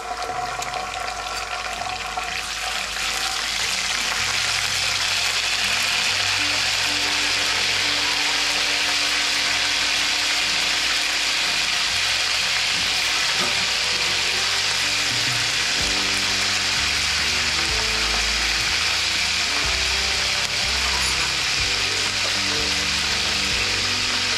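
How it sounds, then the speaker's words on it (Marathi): Ginger-garlic paste dropped into browned onions in a hot pan while cooking sambar, a loud, steady, broad sizzle that holds for the whole stretch, close up, with no voices. "आता आपण लसूण अद्रकची पेस्ट टाकून घेऊयात."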